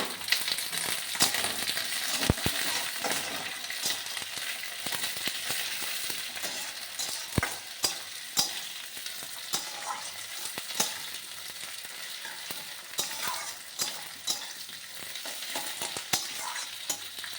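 Chopped capsicum frying in a pan, a constant close sizzle broken by scrapes and clinks as it is stirred, steady throughout with no talk.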